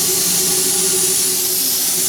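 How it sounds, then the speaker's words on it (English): Steam pump on a big steam locomotive hissing in a loud, continuous broad rush, with a low steady hum beneath, close by throughout. "this is a steam pump, which runs piston action off the steam pressure"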